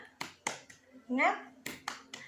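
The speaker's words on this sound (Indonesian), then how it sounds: "Mari kita tepuk semangat dulu" Children and a teacher perform the tepuk semangat clapping chant in an Indonesian Quran lesson, sharp separate hand claps in a rhythmic pattern broken by a short chanted voice in the middle, close and clear.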